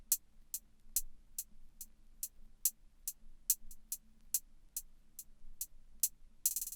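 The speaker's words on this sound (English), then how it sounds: "So I started with this hi-hat." Hi-hat from a trapsoul beat programmed in FL Studio: crisp, short ticks repeating in a quick, fairly even pattern, quiet and alone with no other drums.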